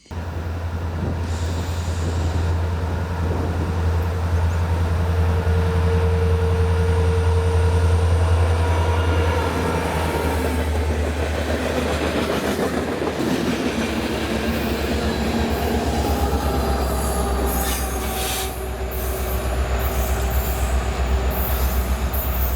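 Canadian Pacific military-liveried locomotive CP 7021 passing in Hinckley, Minnesota, a loud, continuous low rumble of the train with clacking wheels and some squealing as it rolls close by, no talking.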